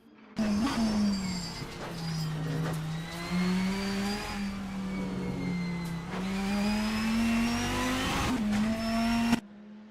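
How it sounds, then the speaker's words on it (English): A Dodge Viper V10 in a GTE sim race at Shanghai International Circuit drones loud and close, its pitch rising and falling steadily through the gears, with a brief sharp blip near the end. "That Dodge Viper V10 engine there."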